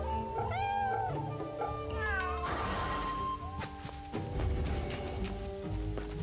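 A cat meows repeatedly in the video game Fate/Samurai Remnant, with rising and falling calls over game music and ambient sound and a brief crash in the middle.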